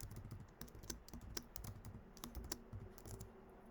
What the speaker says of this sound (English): You just want to type each equation exactly as it appears.